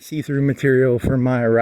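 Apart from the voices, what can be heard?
No everyday noises stand out.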